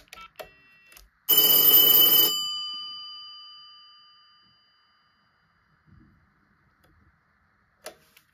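An MS-303 wall telephone, a lookalike of the American 2554 model, gives one loud bell ring about a second long that rings out and decays. Quiet follows, broken only by a few faint clicks and taps.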